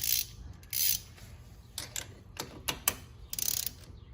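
A socket wrench ratchets on the spark plug of a Venom X22 125cc motorcycle, with short, close bursts of sharp clicking separated by pauses, and a quicker run of clicks near the end.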